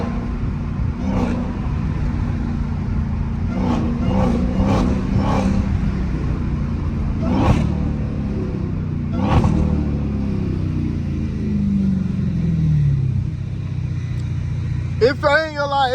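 A steady engine hum and road rumble fill the cabin of a moving car, with someone talking over it and a few brief bumps.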